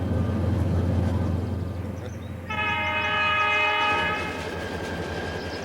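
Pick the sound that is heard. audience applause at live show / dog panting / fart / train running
train running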